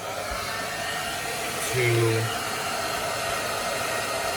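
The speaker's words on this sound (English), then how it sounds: "I'm going to use the hairdryer on high heat" A hair dryer on high heat blows with a steady, loud whooshing hiss throughout, with a brief spoken word near the middle.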